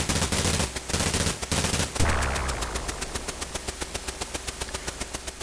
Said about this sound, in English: Let me try shooting something so we can hear some more sound.